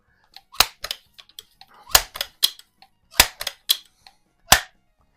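A 1955–56 Crosman 140 or 147 pump air rifle, just repaired, fires at splatter targets. Several sharp cracks come at uneven intervals, mixed with fainter clicks and taps, fairly close, with no one talking.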